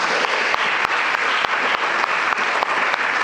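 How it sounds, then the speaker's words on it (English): A crowd at a pitch-day event applauds steadily and loudly, dense clapping filling the room without pause for the whole stretch, with a few sharper individual claps standing out and no voices heard over it. "Please give Williamson Inc. a round of applause."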